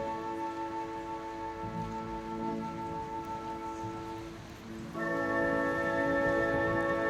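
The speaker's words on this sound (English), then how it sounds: "By now the rain was so heavy" Heavy rain in Norway or Iceland hisses steadily beneath sustained musical tones, with the music growing louder near the end.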